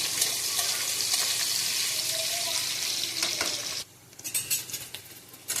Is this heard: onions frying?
yes